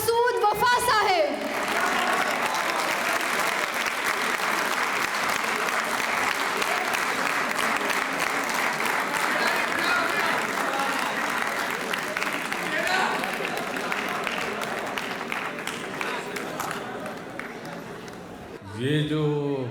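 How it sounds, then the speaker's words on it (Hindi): A mushaira audience in Faisalabad applauds to welcome a guest poet, loud sustained clapping from a large crowd for most of the stretch, fading toward the end before a voice returns. "भरपूर तालियों में इस्तकबाल कीजिएगा"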